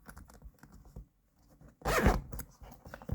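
A zipper on the inner side of black nubuck leather barefoot winter boots is pulled in one quick, loud close-up zip after some faint handling rustles.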